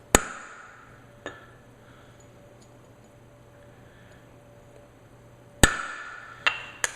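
A metal punch is hammered against a roll pin during reassembly of a Masterpiece Arms MPA 930 Mini 9 pistol, giving a few sharp, isolated metallic taps, one early and a quick cluster of three near the end, with quiet between.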